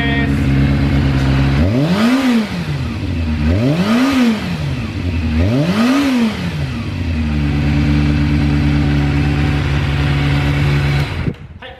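A Kawasaki ZRX400 motorcycle with its muffler fitted revs hard three times in quick succession, then settles into a loud, steady idle before cutting off abruptly at the end.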